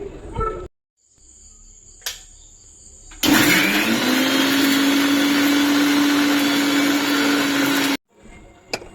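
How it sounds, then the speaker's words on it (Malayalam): A mixer grinder grinds gooseberries for homemade hair oil, a loud steady whirring motor with a high whine that runs for about five seconds after a few quieter knocks, then cuts off abruptly. No one talks. "ഇനി നമുക്ക് ലാസ്റ്റ് കുറച്ച് നെല്ലിക്കയും കൂടെ ഇതിനകത്തോട്ട് ആഡ് ചെയ്യാം. ഇത് നമുക്ക് വൃത്തിയായിട്ട് അരച്ചെടുത്തോണ്ട് വരാം."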